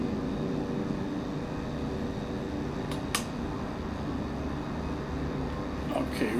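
A twin-engine airplane taxiing in Microsoft Flight Simulator 2024 gives a steady, full engine drone and broad rushing hum that holds even throughout, with a few faint clicks on top.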